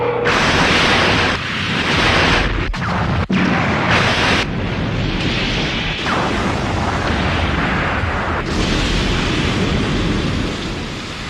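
Laser weapons firing in a Godzilla movie battle: loud, dense roaring blasts fill the whole clip, with sharp cracks near the middle and sustained rumbling energy, no voices.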